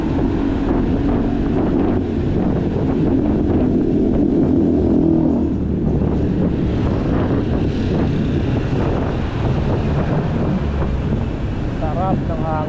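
Steady wind rushes loudly past the microphone of a bicycle rider commuting to work downhill through city traffic, a constant buffeting roar throughout with faint traffic beneath.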